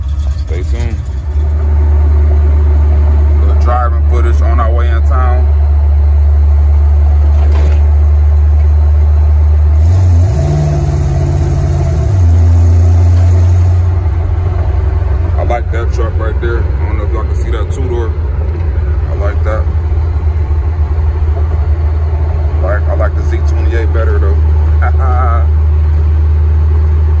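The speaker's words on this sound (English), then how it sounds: "Driving footage on our way in town." A Z28 car drives through town, its engine droning low and steady with a brief rev in the middle, while people talk over it throughout.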